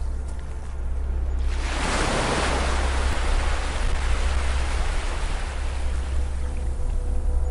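A beach surf wave swells and breaks, building into a broad, steady wash of ocean water that rolls on and slowly settles, loud and close with no voices.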